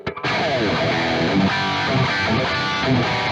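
A distorted Corona Modern Plus electric guitar rings out after a short pause, sustained chords with a gritty, saturated tone.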